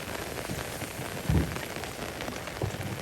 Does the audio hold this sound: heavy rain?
yes